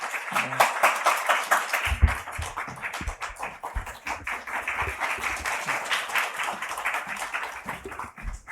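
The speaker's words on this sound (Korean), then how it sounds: "박수로 함께 맞이할까요?" A church congregation claps together in welcome during a Sunday worship service, steady dense applause lasting several seconds with a few louder claps standing out.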